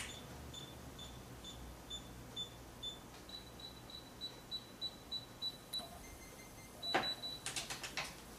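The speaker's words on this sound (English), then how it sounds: "the screen has turned green and gave me a positive beep letting me know that we are where we're supposed to" A Desoutter DWTA Vision digital torque and angle wrench gives a string of short, evenly spaced high beeps. After a brief gap a quick chirping burst and clicks follow, faint over a low background rumble.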